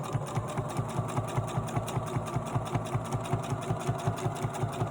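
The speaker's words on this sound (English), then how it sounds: "The machine I'm using is a Pfaff." Pfaff sewing machine stitching box corners on a bag, a close, steady rhythmic whir with regular needle thumps running the whole time.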